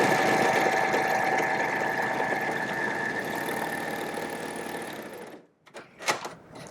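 A Husqvarna Viking Amber S100 overlock serger stitches and trims a fabric edge with its side cutter, giving a loud, steady mechanical whir that runs for about five seconds and then stops, followed by a few faint handling clicks.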